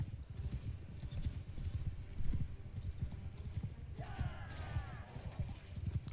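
Rapid hoofbeats clatter continuously as several horses gallop in Mount & Blade II: Bannerlord, with a horse whinnying partway through amid game sounds.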